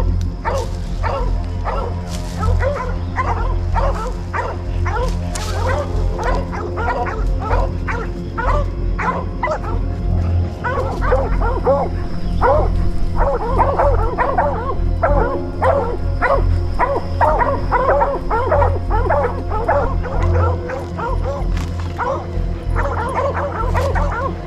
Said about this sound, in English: let's take a look and see what happens when the catch dog gets in there and heads